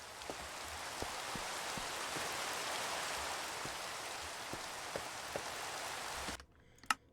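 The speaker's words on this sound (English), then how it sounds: "Rain's gonna drive me bloody crazy." Minecraft rain pouring steadily as a broad, even hiss with faint periodic ticks, cutting off abruptly near the end before a brief soft knock.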